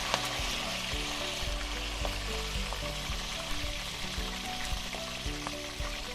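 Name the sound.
broccoli lightly frying in a pan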